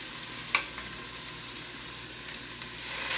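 Rabbit pieces fry in a hot pan with a steady close sizzle, broken by a brief sharper crackle early on and a louder hiss building toward the end.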